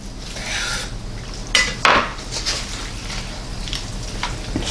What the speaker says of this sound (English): See if I can just slice through there thoroughly.